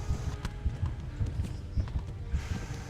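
Horse hooves pounding at a quick, even pace in the video game Kingdom Come: Deliverance, close and moderately loud, running alone against a low game backdrop.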